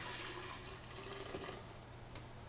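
Chilled ginger ale pours into a measuring cup in a close, continuous gurgling stream that fizzes and tapers slightly toward the end, with no one speaking.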